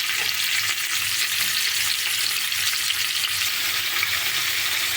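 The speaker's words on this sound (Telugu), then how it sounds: "ఉల్లిపాయలు, ఎండు చేపలు వేగనిద్దాం." Onions, green chillies and dried fish frying in hot oil in a pan give a steady, loud, dense sizzle that runs on without a break.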